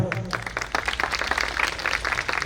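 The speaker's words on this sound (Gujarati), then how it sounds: "તાળી વગાડો" Audience applause at a property company event, a dense wash of clapping from a crowd that carries steadily through the whole moment with some voices mixed in.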